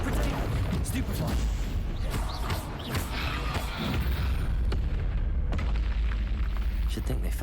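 Confringo blasting spell going off in the Hogwarts Legacy video game: loud booming explosions and bursts amid a dense, busy mix of combat effects, with talking over it.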